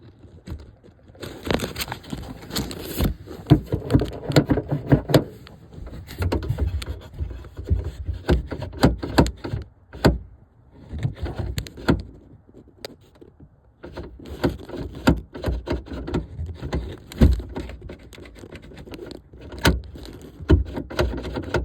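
A stuck rear door lock mechanism on a 1989 Honda Civic is worked by hand, giving repeated close metallic clicks, rattles and scraping in uneven bursts with brief pauses.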